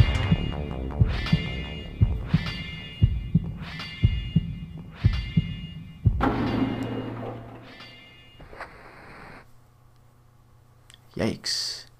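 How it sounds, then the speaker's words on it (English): A slow, heavy heartbeat thumps steadily as an effect in the PS1 game Clock Tower, with evenly spaced deep double beats that fade out, followed by a drone and a sudden sharp sting. "I do like that heartbeat"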